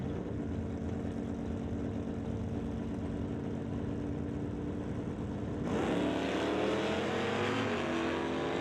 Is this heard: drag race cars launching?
yes